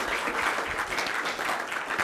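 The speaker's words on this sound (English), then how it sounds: "Let's give Him a clap, shall we?" A church congregation at a gifts-of-the-Spirit meeting gives a round of applause, a steady, even wash of many hands clapping throughout, moderately loud with no clear speech.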